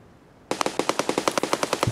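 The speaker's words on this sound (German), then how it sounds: "Die Schüsse sind hinten." Automatic gunfire in the video game Escape From Tarkov opens after a quiet half second, a rapid, loud and close burst of about sixteen shots in an even rhythm with no talking.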